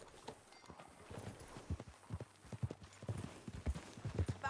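Horse hooves clip-clop at a walking pace on a ranch, a faint, uneven string of hollow knocks spaced through the stretch, with no talk over them.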